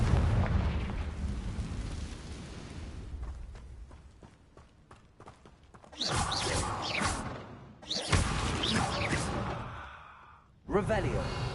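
Confringo blasting spells burst in Hogwarts Legacy, several loud broadband blasts around the middle and end with sharp onsets, following a rumbling stretch of game noise with faint crackles; no speech.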